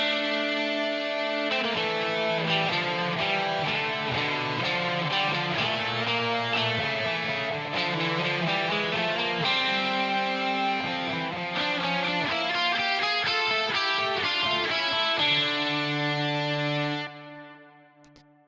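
Several electric guitar parts layered together, mixing single-coil and bridge pickup tones, play a dense, driven, distorted passage that holds steady and loud before fading out at the end.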